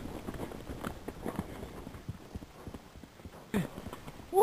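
Horse hooves clip-clop at a steady walking rhythm during a trail ride to a remote cabin, close and moderately loud, with a few sharper knocks near the end and no talk.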